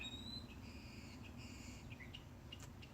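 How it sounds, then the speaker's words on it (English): Small birds chirp outdoors in short, faint, scattered calls over a steady low background hiss, with no one talking. "You hear the birds?"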